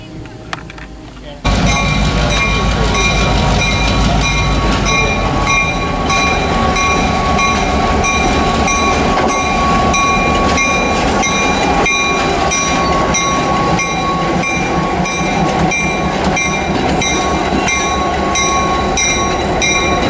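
Norfolk and Western 611 steam locomotive passes close by with a loud, sustained roar of rail noise and clanking wheels, whistle-like tones, and people talking faintly underneath.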